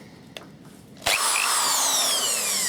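A repaired Bosch corded hammer drill starts after a faint click and runs on at steady high speed with a loud, whining motor tone.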